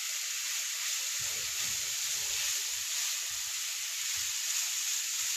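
Beef patty filling cooks in a pan, giving a steady bright sizzle with quiet low bumps and crackles from the frying meat, and no one talking.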